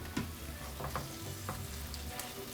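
Pieces of beef stew meat go back into a hot pan with a splash of balsamic, giving a steady low sizzle with a few scraping stirs and soft clinks, fairly quiet and without voices.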